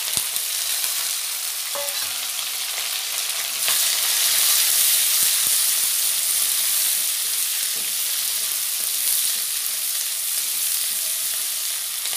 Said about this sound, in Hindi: प्याज को मैं अच्छे से भून लेती हूँ।